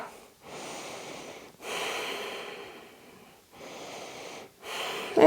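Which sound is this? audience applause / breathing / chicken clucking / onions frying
breathing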